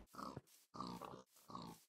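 Pigs in the Minecraft video game giving short grunting oinks, three quick low calls in a row, quiet and alone.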